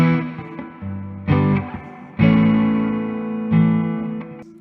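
A 1967 Framus Golden Television hollow body electric guitar strums a few separate chords, each sustaining with a full, hollow, reverberant tone, played alone and loud.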